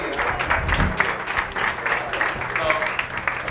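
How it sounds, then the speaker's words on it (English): Applause from a live podcast audience at an art museum, dense steady clapping across the whole stretch with a low murmur of voices mixed in, moderately loud and close. "Clap for us, please."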